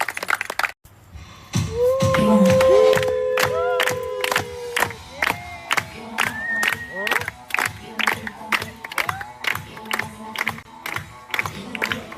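Audience at a Miss and Mister contest show claps and cheers loudly for over ten seconds, sharp claps and whoops rising right after a brief pause and continuing in bursts, with shouting voices mixed in.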